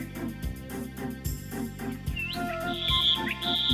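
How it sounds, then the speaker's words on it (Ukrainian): Birds chirp and sing in a spring setting, bright tonal calls and trills rising over a rhythmic musical backing with low thumping beats, the song phrases growing clearer and louder toward the end. "Дзвінки шебетання птахів"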